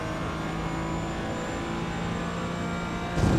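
A Porsche Cayman GT4 race car in iRacing at Silverstone held at full throttle, its engine a steady, high sustained drone with constant harmonics, then a brief louder surge at the very end.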